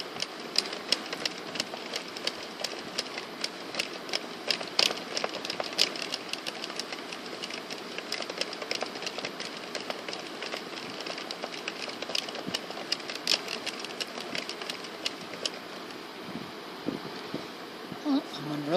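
An addi Express Pro circular knitting machine, hand-held while working a crochet cast on, runs continuously with a fast buzzing, clattering whir of needles and crank, steady and close for the whole stretch.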